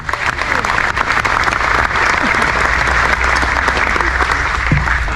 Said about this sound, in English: Another round of applause for Pat Donaho, folks